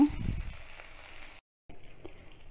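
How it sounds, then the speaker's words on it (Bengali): Chicken pieces fry in a hot pan with a steady, close sizzle that crackles more heavily at first, cuts out briefly, then resumes at a lighter level. "এক পাশ ভাজা হয়ে গেলে আমরা উল্টে দিব, তারপরে অন্য পাশ ভাজবো।"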